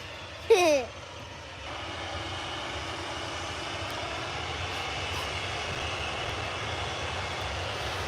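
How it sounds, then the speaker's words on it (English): A Ryanair Boeing 737 jet rumbles at Manchester Airport, its broad engine roar steady and moderately distant, with a brief louder thud near the start. "Is it a 737 MAX? The Ryanair flight?"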